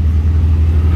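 A green Porsche 911 GT2 RS passes close by in Cannes street traffic, a loud, brief low engine rumble filling a single second.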